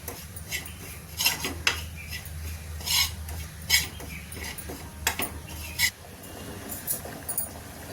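Spices lightly roasting in a pan while being stirred, with repeated metallic scrapes and clinks of a spoon against the pan over a faint background hiss.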